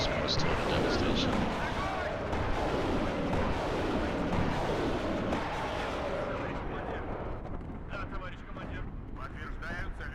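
Salvos from a TOS-1 Buratino thermobaric rocket launcher in the wartime strategy game WARNO, a dense, continuous roar of launches and blasts rumbling loudly throughout, easing slightly toward the end.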